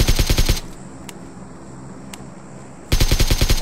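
Rapid automatic gunfire from a suppressed AKM in PUBG Mobile, two loud bursts at the start and end with a quieter gap between holding a couple of faint distant shots.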